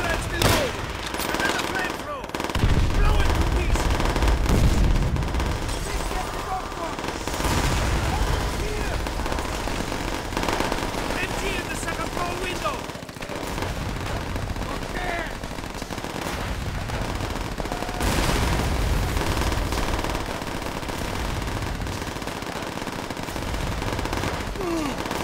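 Sustained machine-gun fire in Call of Duty: World at War, dense rattling bursts with booming impacts that carry on almost without pause, loud and close, with voices mixed in.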